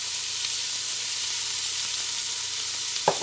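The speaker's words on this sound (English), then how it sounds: "And add 1 chopped onion, large onion, and a tablespoon of chopped garlic," A large chopped onion and a tablespoon of chopped garlic frying in a pan for a Jamaican dish, with a constant bright hiss of sizzling oil and one soft clunk near the end.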